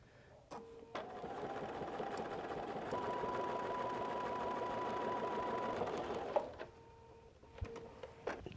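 A sewing machine runs a steady, fairly quiet stitching hum for several seconds along a quilt seam, starting and stopping with brief mechanical clicks at each end, with no one speaking.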